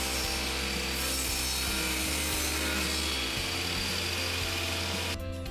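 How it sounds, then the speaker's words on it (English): A table saw cuts a groove in wood for a plexiglass table divider, producing a steady close whine and rasp under a low motor hum that holds throughout and shifts pitch partway through. "Now here's where a table saw does come in handy."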